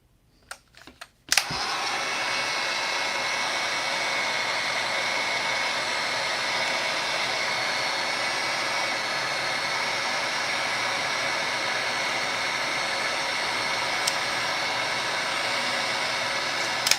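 Heat gun starting with a click and then blowing hot air steadily at close range, a loud even whooshing hiss that holds constant for over fifteen seconds while customizing a Masters of the Universe action figure.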